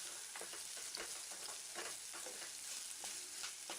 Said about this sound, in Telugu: ఉల్లిపాయలు, పచ్చిమిర్చి కూడా వేసి లైట్ బ్రౌన్ కలర్ వచ్చే వరకు ఫ్రై చేసుకోవాలి